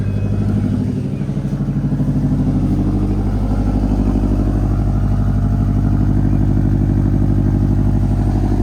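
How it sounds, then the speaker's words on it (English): A Subaru car engine with 77,000 miles, started and idling with a steady, loud, deep rumble and throbbing low pulse close by, no speech over it. "it's a Subaru, which means it's got the rumble and sounds great"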